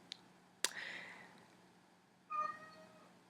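A pet cat gives two short meows with a quiet pause between them, close and fairly soft against a faint hum.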